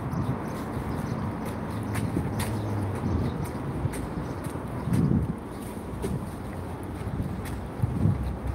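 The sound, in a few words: breeze wind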